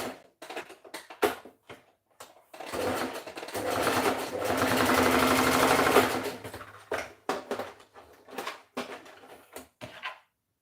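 A sewing machine joins a garment's shoulder seam at a half-inch allowance: a few short clicking bursts, then a steady, close whirring run of stitching for several seconds, then more brief intermittent bursts, with no talking.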